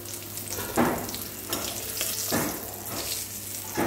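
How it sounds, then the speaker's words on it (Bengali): Ivy gourd slices sizzle as they fry in a pan, a continuous crackling hiss punctuated by periodic louder bursts as the pieces are stirred, fairly quiet and close with no talking. "ওদের জন্য একটুখানি তরুলি ভাজা করব"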